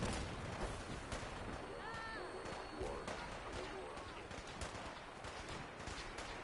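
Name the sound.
gunfire in a PS4 shooter video game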